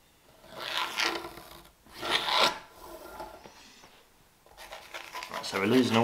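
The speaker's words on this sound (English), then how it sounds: "which is going to be the sawing." A hand saw cuts through wood for a pole lathe build, giving rhythmic rasping strokes in bursts, fairly close and loud, with a quieter stretch between, and a voice speaking near the end.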